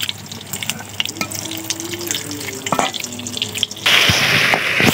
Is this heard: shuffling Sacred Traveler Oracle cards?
no